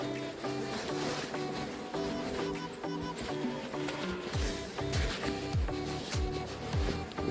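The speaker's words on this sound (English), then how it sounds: "Mind, these are very aggressive bees." Aggressive bees buzzing close by at a beehive, a busy drone with individual insects swooping past in sliding pitch sweeps.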